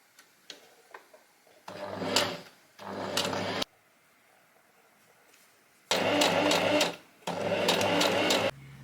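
A sewing machine stitches fabric in two loud bursts, each with a short break, separated by a quiet gap with a few faint clicks and handling noises, close by with no talk.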